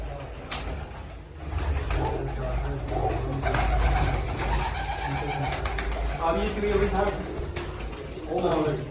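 Racing pigeons coo in soft, throaty bursts close by, repeating over a steady background hum while someone talks intermittently.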